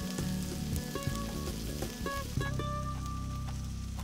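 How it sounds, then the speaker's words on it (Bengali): Shrimp and fish filling for stuffed pointed gourd fry together in a kadai, producing a quiet, steady sizzle with occasional stirring clicks beneath a tonal background. "মাছ বেছে চিংড়ি আর মাছ সব একসাথে কড়াইয়ে দিয়ে দেবে"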